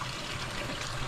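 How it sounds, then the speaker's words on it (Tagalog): Water flowing strongly from a spring beside rice seedbeds, a faint, continuous rushing and trickling without pause. "Kaya po malakas ang tubig."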